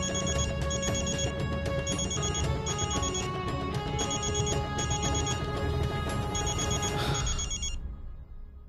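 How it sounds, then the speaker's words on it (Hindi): Telephone bell rings in repeated electronic bursts at a steady rhythm, loud and close over a dense background of drama underscore music, fading out at the end. "फोन बज रहा है, उठाना नहीं है?"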